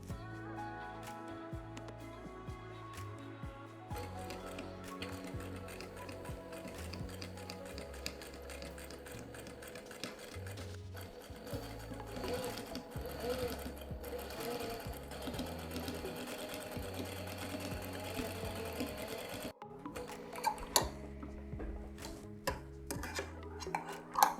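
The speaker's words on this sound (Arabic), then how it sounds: "يلا بينا دلوقتي نخيط البنطلون عشان يبقى سكيرت." A sewing machine stitches old denim jeans into a skirt in quiet, rhythmic bursts of rapid clatter, stopping and starting again several times.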